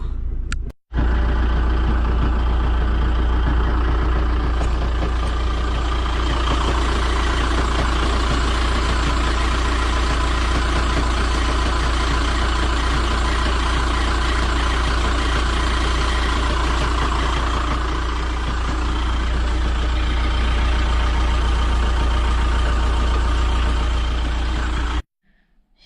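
A motorhome engine idles with an abnormal knocking fault, giving a continuous low, heavy rumble that stays steady and fairly loud for about twenty-five seconds, with no one talking.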